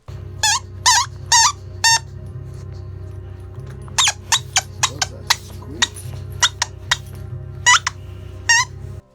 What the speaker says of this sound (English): I like toys. Squeaky ones are good.